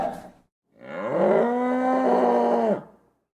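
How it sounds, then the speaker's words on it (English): A buffalo lets out one long, deep bellow lasting about two seconds, loud and close, preceded by a brief short sound and then silence. "And the sound of buffalo is grunt,"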